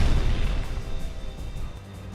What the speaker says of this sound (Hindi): सामने रखी 7 मीटर चौड़ी कंक्रीट दीवार पर यह धमाका